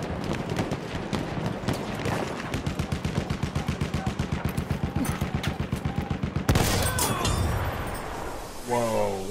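Rapid, evenly spaced gunfire from a weapon in the video game Battlefield 1 rattles for several seconds, then a single louder blast cuts in, followed by a brief voice.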